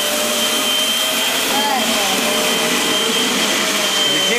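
A vacuum cleaner whines steadily up close, its motor hum overlaid with a gritty rattle of dirt being sucked through.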